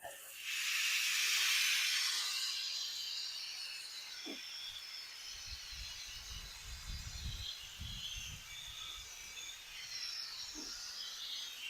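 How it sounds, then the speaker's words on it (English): Garden hose spraying water onto a car wheel during a wheel clean: a steady broad hiss of spray, strongest at first and then continuing evenly, with faint low bumps beneath. "get our trusty hose, and we will hose off all the dirt."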